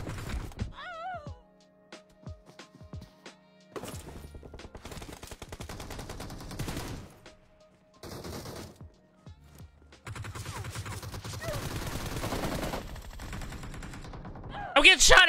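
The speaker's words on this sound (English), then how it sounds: "I'm getting shot everywhere, bro." Rapid bursts of automatic gunfire in a video game, loud and close, coming in several clusters with short quiet gaps between them and a sharp cluster at the very end.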